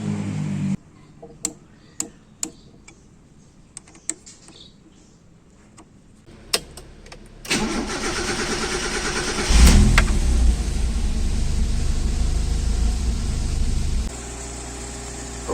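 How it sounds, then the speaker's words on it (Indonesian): A car with a weak battery is cranked and started; faint clicks and knocks precede a sudden engine catch, a brief rev, then a steady idle that drops slightly in level toward the end. "coba starter mobil, sekalian kita cek apakah dinamonya ngisi atau tidak"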